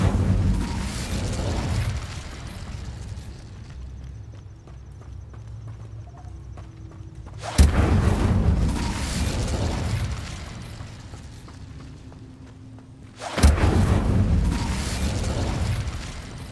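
Incendio fire spell blasts in the Hogwarts Legacy video game, three loud sudden whooshing bursts roughly six seconds apart, each rumbling off into a low crackling tail.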